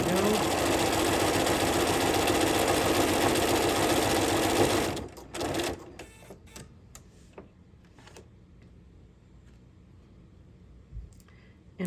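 A sewing machine fitted with an overlock foot stitches loudly and steadily for about five seconds, then stops, leaving scattered clicks and light handling noises in a quiet room.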